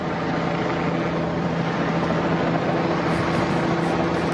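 Helicopters circle over a burning house in a residential neighbourhood, their rotor noise a constant loud rumbling wash that fills the air without a break or any talk.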